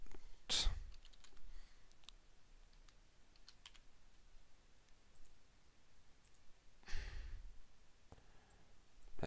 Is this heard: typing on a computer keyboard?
yes